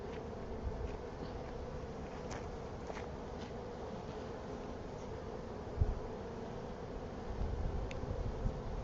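Honeybees buzzing inside a live hive, a steady low drone of many wings that stays calm and even, fairly faint, with no talking.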